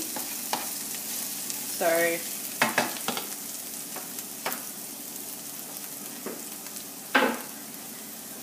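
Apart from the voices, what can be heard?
mushrooms, onion and vegetables frying in a pan for pizza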